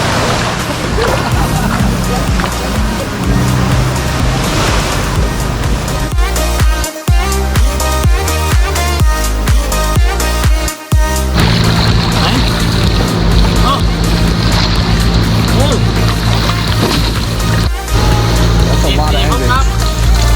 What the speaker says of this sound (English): that's a lot of engines.